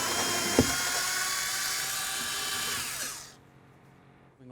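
A power driver with a T27 bit whines at a high steady pitch while backing out headlight bolts on a fourth-generation Ford F350, then winds down and stops near the end, leaving near silence.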